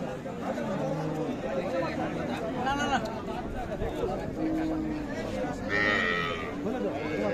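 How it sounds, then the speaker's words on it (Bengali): Cattle at a busy livestock market, a cow with her calf among them, give short bleating and lowing calls over a constant din of crowd chatter and nearby voices. "এইটা আরিয়া বাচ্চা আর একটা গাভী"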